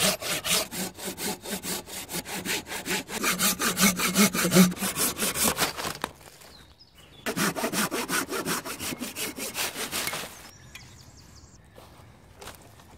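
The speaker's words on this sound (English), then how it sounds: "I'm thinking about cutting it there, then cut the branches there, there and there" Hand saw cutting through a tree branch outdoors in woodland for a rough table, rapid rhythmic back-and-forth strokes loud and close for about six seconds, a brief pause, then another burst of sawing before stopping.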